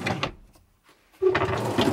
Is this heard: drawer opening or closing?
yes